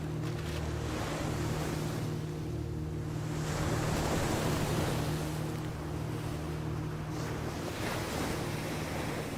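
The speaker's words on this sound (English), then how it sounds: "The crashing of the waves was a giant metaphor, but also a reality." Ocean waves crash in a movie scene, a loud, continuous roar of surf with swelling surges and wind-like hiss, heard alone without voices.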